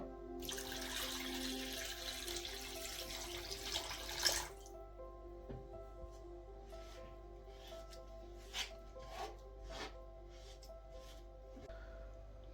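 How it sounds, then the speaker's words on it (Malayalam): Water pours steadily into a pan of cooked apple pickle for a few seconds, then stops, leaving faint drips and light clinks in a quiet room. "നമുക്ക് ഇതിലേക്ക് വെള്ളം ചേർത്ത് കൊടുക്കാം"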